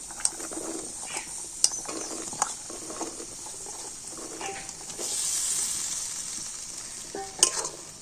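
Cut potatoes frying with spices in a pan for ghugni, a soft continuous sizzle with scattered scraping stir clicks and utensil knocks, a louder hissing swell midway, close and without talk.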